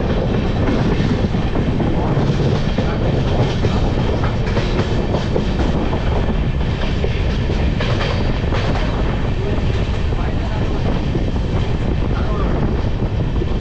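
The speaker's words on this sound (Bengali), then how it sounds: "এরপরে গিয়ে আমাদের ট্রেন দাঁড়াচ্ছে একদম সোজা বর্ধমান।" Ganadevata Express train running on rails between stops, heard from on board as a loud, continuous rolling rumble with steady rhythmic wheel clatter and wind noise.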